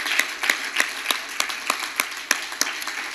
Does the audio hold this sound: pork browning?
no